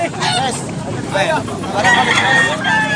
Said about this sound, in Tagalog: daghang kitag manok ng mga idol